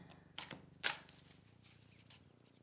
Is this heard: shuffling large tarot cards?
yes